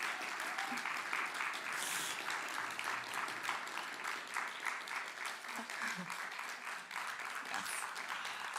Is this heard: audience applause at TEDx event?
yes